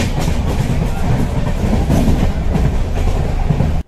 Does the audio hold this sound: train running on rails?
yes